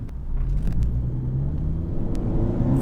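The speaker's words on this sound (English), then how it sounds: "Got a little bit of space to accelerate out of the gates." Spoon-tuned Honda Civic FK7 accelerating hard out of a toll gate, a steady close engine drone and road rumble building over three seconds, with no talking.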